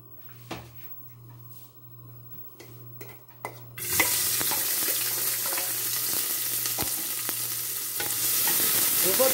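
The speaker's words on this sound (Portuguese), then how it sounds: "Eu vou dar uma dourada na cebola" Onions drop into hot oil and start sizzling loudly after a few quiet clinks and stirring sounds; the frying hiss continues steadily, close by.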